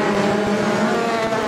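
Stock cars race at Mildenhall raceway, a loud steady roar of racing engines held close throughout, with no break and no voices.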